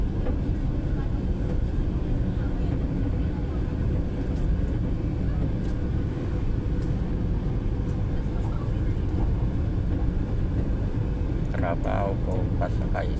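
An MRT train ride in Manila, Philippines: a steady low rumble of the moving railcar runs throughout, with someone talking over it and a few brief higher squeals near the end.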